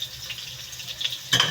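Onion, garlic and ginger sautéing in a pan for chicken tinola, a soft, steady sizzle with faint crackles that swells briefly louder near the end as the pan is stirred.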